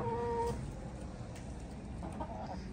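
Hens in a village yard in Zonguldak give soft clucking calls, with a brief clearer cackle at the start and another short burst near the end over steady low background noise.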